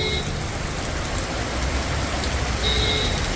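Rain pours outside a shop in Thiruvananthapuram, Kerala, a steady dense wash of falling water hitting surfaces, with faint traffic noise underneath.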